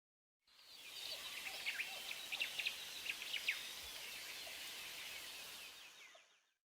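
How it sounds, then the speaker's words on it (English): A jungle ambience with birds and insects: a dense, steady insect hiss, with scattered bird chirps and calls rising above it. The sound fades in and out softly, and no one speaks. "For the jungle ambient sounds,"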